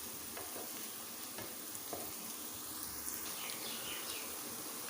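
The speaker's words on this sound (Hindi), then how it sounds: "तीन मिनट हो गए हमें प्याज को फ्राई करते हुए।" Onions frying in a pan for a white lobiya (black-eyed bean) curry, a steady quiet sizzle with a few soft stirring scrapes throughout, no talking.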